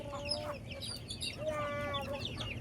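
Chickens clucking and calling softly in the background, several drawn-out notes with faint ambient noise.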